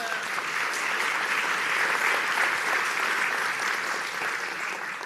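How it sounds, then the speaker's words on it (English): A town hall meeting audience with the New York mayor gives a sustained round of applause, dense and even clapping filling the room without a break. "So please give your neighbor a round of applause."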